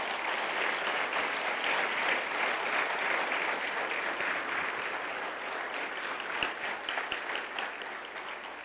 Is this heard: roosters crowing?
no